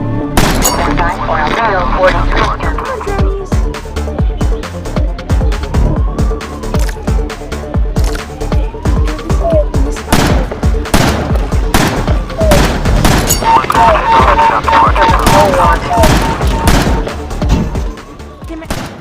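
Rapid, repeated gunshots in the Gorilla Tag video game, loud and closely spaced, with a wailing siren sweeping up and down underneath and a voice talking.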